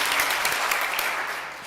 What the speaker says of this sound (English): And John, I need to applaud you